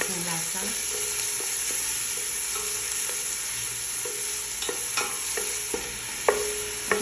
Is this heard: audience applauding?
no